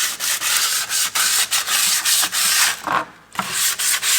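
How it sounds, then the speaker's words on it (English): Sandpaper sanding a bare Dollar Tree wooden picture frame, giving a close, loud, raspy rubbing in steady back-and-forth strokes with a brief pause near the end, no voices. "we're just going to slightly sand"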